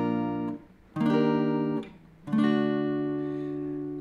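Three strummed guitar chords ring out one after another, each left to sustain briefly, played alone and up close.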